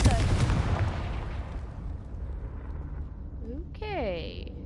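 A Confringo blast spell cast in Hogwarts Legacy, one loud explosive boom at the start that fades into a long rumbling decay, then a brief rising warble of chirping creature calls near the end.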